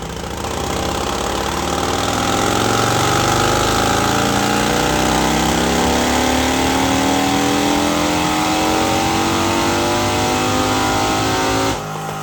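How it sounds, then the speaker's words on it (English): A 2022 Harley-Davidson Road Glide with a 135-inch engine and a TAB exhaust revs loudly on a dyno, steadily climbing in pitch through a long pull, then cuts off abruptly near the end. "now we're testing it versus this TAB exhaust"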